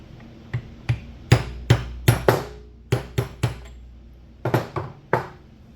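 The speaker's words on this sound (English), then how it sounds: "So I'll just tap on until it's seated." Seal driven into a Bad Boy mower transmission with a hammer: a dozen or so sharp metallic taps, close and loud, in uneven clusters with short pauses, no talking.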